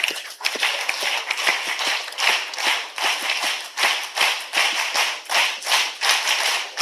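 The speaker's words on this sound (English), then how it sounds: "Give a huge applause to all of them. A mighty clap." An audience at a corporate leadership forum and awards event applauds, a dense, fairly loud burst of many hands clapping with uneven pulses that carries on steadily throughout without talk.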